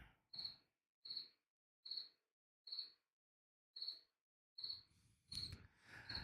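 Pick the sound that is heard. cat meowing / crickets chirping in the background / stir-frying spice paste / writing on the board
crickets chirping in the background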